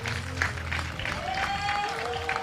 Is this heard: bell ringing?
no